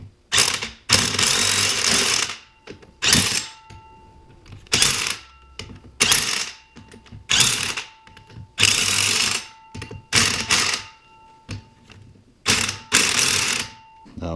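A ratchet clicks in repeated bursts while tightening the track bolts on a Bobcat T190 in a star pattern, each burst a loud, rapid run of close metallic clicks separated by short pauses.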